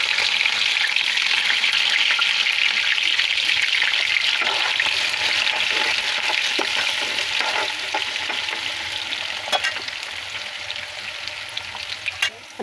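Sliced onions dropped into leftover potato-frying oil give a loud, dense, continuous sizzle up close, with occasional stirring clatter and crackle that eases slightly toward the end.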